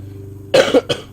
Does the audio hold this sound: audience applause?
no